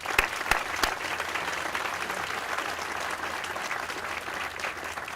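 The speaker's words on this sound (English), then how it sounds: "Would you please join me in a round of applause?" A crowd applauds steadily at an Army Cyber Command complex groundbreaking ceremony, a dense wash of clapping with a few sharp, close claps at the start, sustained for several seconds.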